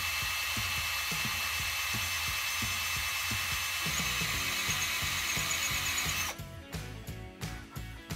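A power drill bores through a glass bottle in a steady, close, loud whine with rhythmic chattering bit ticks, then cuts off into short intermittent bursts.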